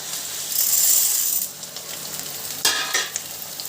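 Black soybeans (bhat) frying in a pan with onion, giving a steady close sizzle with scattered crackles and a sharper burst of crackling partway through.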